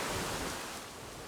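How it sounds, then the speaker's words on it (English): A small waterfall beside a hiking trail near Bulgwang Station in Seoul gives a steady broadband rush of falling water, fairly close and continuous, with no voices. "just passing a little waterfall"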